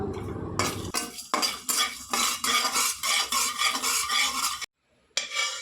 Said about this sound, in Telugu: కొద్దిగా జీలకర్ర కూడా వేసి ఫ్రై చేసుకుందాం